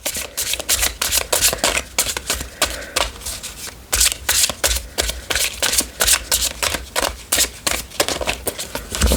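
A deck of playing cards is shuffled repeatedly, giving rapid riffling bursts and flicks in a steady rhythm, close and fairly loud, with no voices.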